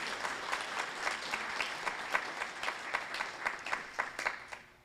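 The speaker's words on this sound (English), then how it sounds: "Let's do another round of applause really quick." Audience applause at a monthly transportation technology meeting, a steady dense patter of many hands clapping with scattered louder claps, filling the room for about five seconds before tapering off at the end.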